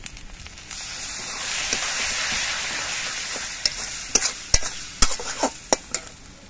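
Water poured into a pan of turmeric, cumin and salt sets off a loud, hissing sizzle that gradually settles, followed by a run of close spoon scrapes and knocks as the mixture is stirred.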